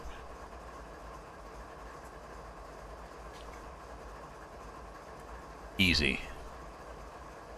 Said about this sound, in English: Train is loaded, let's get moving.